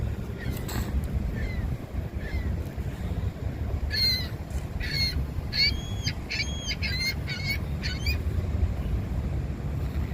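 Seagulls calling near a Lake Michigan shoreline, a string of short squawking cries from several birds in the middle distance over steady wind and water noise.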